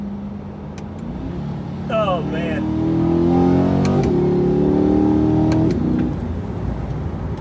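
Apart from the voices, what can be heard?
Chevrolet C8 Corvette V8 engine revving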